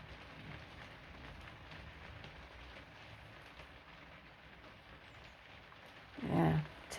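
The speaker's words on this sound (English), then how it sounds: "It started raining again." Steady rain falls outside somewhere in the UK, a soft, even hiss of drops running without a break, with one brief louder thump near the end.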